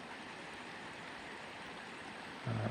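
Water flows in a stream across a green mountain pasture, a faint steady rushing wash heard alone, with a low rumble swelling in at the very end.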